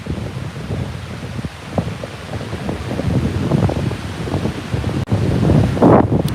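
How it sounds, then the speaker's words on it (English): Storm wind at Cameron Lake buffets the microphone in strong, rumbling gusts that swell and roar loudly near the end. "Oh, there's a bit of a gust."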